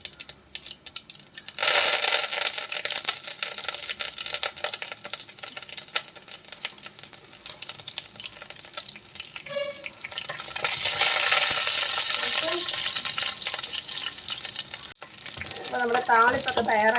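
Curry leaves and two dried red chillies crackle and sizzle in hot oil for a beetroot pachadi tempering, a steady loud frying hiss with a few sharper pops and stirring, no talking.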